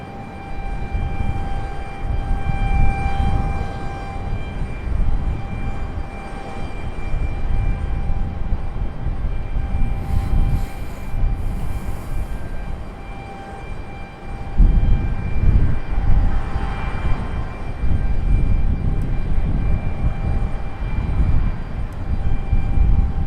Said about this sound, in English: A little exec jet action happening.